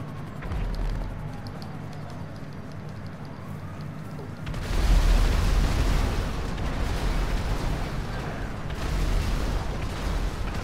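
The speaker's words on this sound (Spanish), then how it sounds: "Se ve chido desde acá arriba la explosión" An explosion in the video game Grand Theft Auto V, where a grenade hits boats: a sudden loud blast breaks in midway over steady background noise and is followed by a long rumbling roar.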